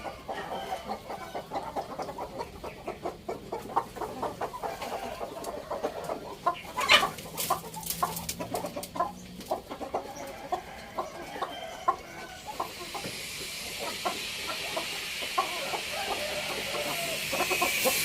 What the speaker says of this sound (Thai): ไก่ตัวเมียสวยๆนะครับ เป็นไก่บ้านๆนะครับ เป็นไก่บ้าน